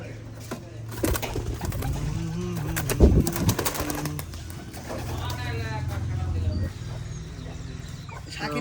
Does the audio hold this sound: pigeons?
yes